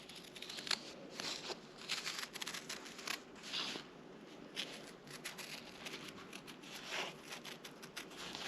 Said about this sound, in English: if you're going to do a lot of cutting through paper like this, I'd recommend you not use your good scissors